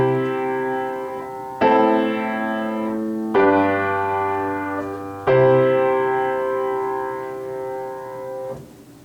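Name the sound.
chord progression with vi chord substituted in predominant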